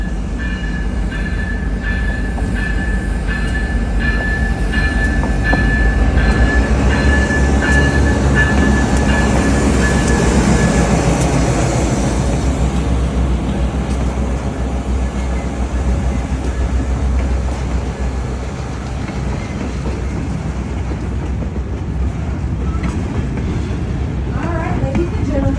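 The Stone Mountain scenic train rolls past the mountain carving on a cloudy day, a long, steady rumble of wheels and cars with faint clacking that swells and then eases slightly. Faint voices are mixed in.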